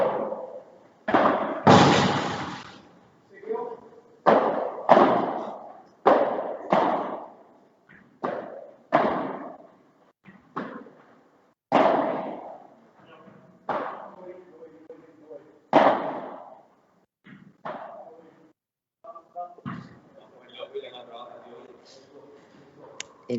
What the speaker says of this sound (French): Et la balle directement dans la vitre, et vous le savez, ça veut dire qu'elle est faute.